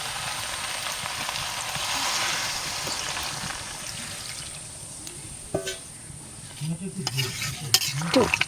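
A watery village-kitchen curry bubbles and sizzles in a pan just after water goes in. A spoon then stirs and scrapes it, adding irregular knocks and clatter toward the end.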